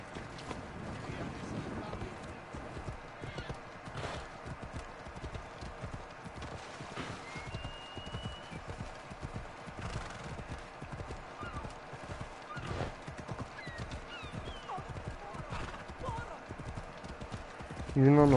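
A horse gallops in Assassin's Creed Odyssey, its hoofbeats clopping in a steady fast rhythm at moderate volume, with occasional whinnies and a voice speaking over parts of it.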